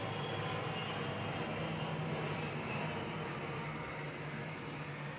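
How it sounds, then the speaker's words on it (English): Airplane passing overhead outdoors, a steady, broadband engine roar holding at a constant moderate level throughout, with no talk. "waited not so patiently for the plane to go over"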